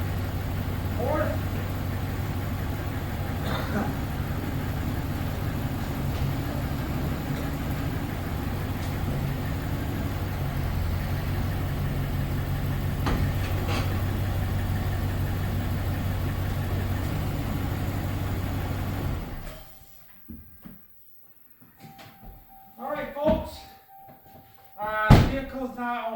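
Dodge Ram 1500 pickup engine running steadily as the transmission shifts through its gears, a continuous low drone that cuts out near the end, leaving a few brief knocks and clunks.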